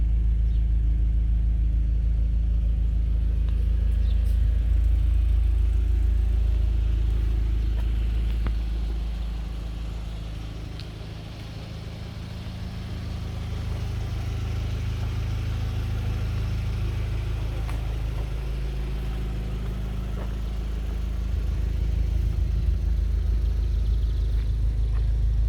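A 2004.5 Audi A4 1.8T Quattro idles after a cold start, a steady low engine rumble heard up close that dips slightly in level midway and then settles back to an even drone, with no talking.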